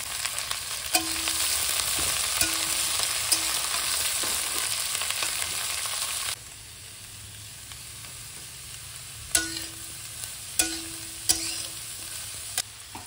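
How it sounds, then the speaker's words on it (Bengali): Potatoes and cabbage fry in a pan with a loud, close sizzle and scraping stirs. The sizzle drops to a quieter hiss partway through, then sharp clanks of utensil taps follow. "আলুটা হালকা ভাজা হয়ে গেছে, এবার এর মধ্যে দিয়ে দেবো ধুয়ে রাখা বাঁধাকপিটা"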